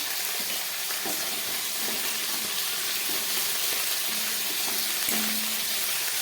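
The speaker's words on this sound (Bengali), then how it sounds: "আলুগুলোকে আমি খুব ভালো করে এবারে ভেজে নেব।" Potatoes fry with salt and turmeric in hot oil in a pan for a fish curry, a steady close, loud sizzle hissing throughout, with a few faint clinks of a utensil.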